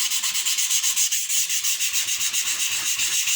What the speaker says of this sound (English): So using some sandpaper, I'm using an 80 grit here.